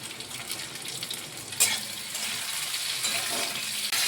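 Slit green chilies from a home-grown plant, some gone slightly red, are dropped into a hot pan of vegetarian moong posto. A continuous close sizzle rises with a sharp burst near the middle and stays loud.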